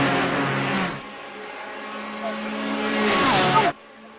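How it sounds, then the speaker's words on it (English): GT race cars roar in a sim racing game, a high engine note rising with upshifts and a whining pass that cuts off abruptly, loud and close with a commentator talking over it. "But now listen to these cars."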